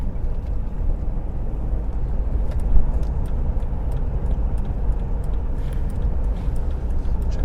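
Car joining a dual carriageway on a Canterbury driving test route, heard as a steady low road and engine rumble with tyre noise, constant and fairly quiet from inside the cabin.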